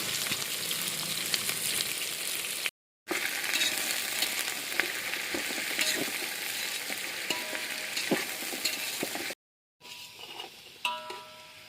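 Chopped onions and green chillies fry in hot oil in a pan, giving a dense, loud, continuous sizzle broken by two brief cuts, with softer crackling in the final seconds.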